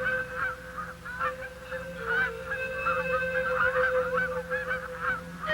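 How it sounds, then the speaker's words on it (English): A flock of Canada geese honks continuously overhead while flying in V formation, many overlapping calls in a steady chorus, moderately loud against a faint background hum. "These are Canada geese, flying south in their characteristic V formations."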